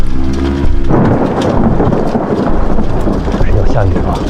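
Thunder rumbles loudly, then heavy rain comes in and holds steady through the rest, a dense stormy wash with no break, in a drama scene set at a large mansion at night.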